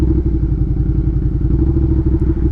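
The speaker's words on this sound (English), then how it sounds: "listen to the RPMs of the bike" A Suzuki SV650 motorcycle with a cheap aftermarket exhaust idles steadily in first gear, a low, even, throbbing rumble with a fast regular pulse, close and loud throughout.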